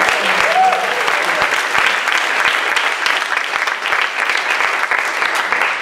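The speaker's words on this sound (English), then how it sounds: "Give yourselves a round of applause." Audience applause at a live comedy show, a dense, sustained wash of many hands clapping loudly from start to finish, with some crowd voices mixed in.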